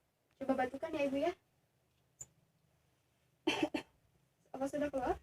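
A woman patient coughs in two bursts and again at the end, each a harsh, voiced series of coughs meant to bring up sputum, near and clear in a quiet room, with a faint tap between.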